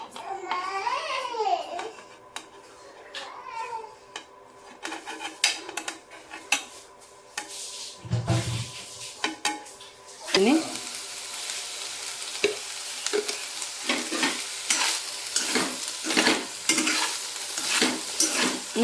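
Small cut paneer pieces frying in a pan, with soft sizzling and stirring scrapes, utensil clinks against the pan, and a louder, denser sizzle in the second half as the pieces hit the oil.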